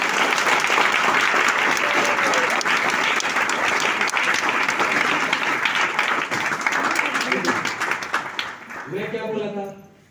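An audience applauds in dense, sustained clapping that thins and fades over the final seconds as a voice starts to speak.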